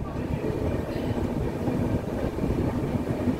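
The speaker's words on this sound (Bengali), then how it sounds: "আমার পেছনে দাঁড়িয়ে আছে হাওড়া তিতলাগড় ইস্পাত এক্সপ্রেস" The Howrah–Titlagarh Ispat Express sits at a station platform, giving off a steady, loud low rumble and hum that continues throughout with no talk.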